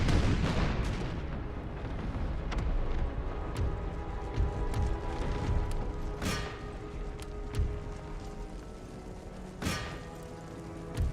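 Artillery guns fire in Empire: Total War, a steady rumbling battlefield din punctuated by repeated sharp booming shots, some close and loud, others more distant, spaced irregularly across the whole stretch.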